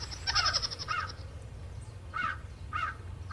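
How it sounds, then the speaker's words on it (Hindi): Crow cawing outside a house, several harsh caws in short bursts, one early cluster then two separate calls later, moderately close over a low background hum. "कौवा है और उसकी भी।"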